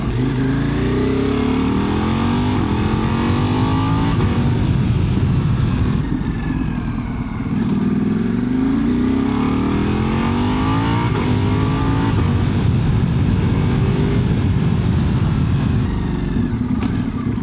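Ducati Multistrada V4 RS motorcycle engine running steadily and loud throughout, with repeated rising revs and gear changes, heard up close from the rider's position with wind noise and no talking.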